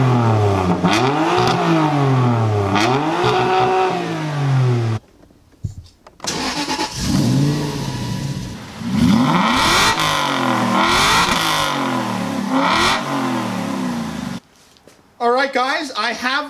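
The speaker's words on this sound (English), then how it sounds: "We're gonna actually do a rev battle" Exotic cars rev their engines one after another in a rev battle, loud sweeping revs climbing and falling near the microphone, with brief pauses between runs and a final sharp burst.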